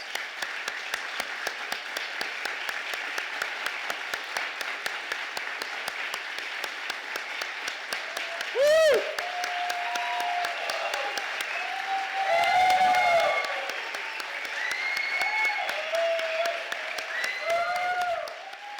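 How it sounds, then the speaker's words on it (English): Standing ovation at a memorial gathering for Vic Anderson: dense, steady applause from a large standing crowd fills the whole stretch, with a few brief voices and whoops rising over it near the middle and end. "let's give a round of applause"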